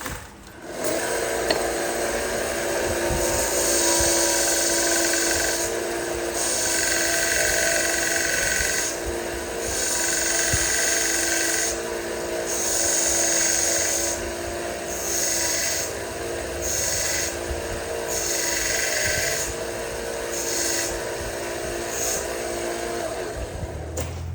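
A flintknapping tool is sharpened with steady, repeated rasping strokes, a continuous scraping rhythm that pulses in short bursts for over twenty seconds, close and fairly loud with no talking.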